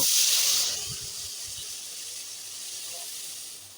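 Lentil dal is poured into hot oil tempered with dried red chilli, cumin and chopped garlic, setting off a loud rushing hiss that slowly fades into a softer, steady sizzle, with faint low clatter underneath.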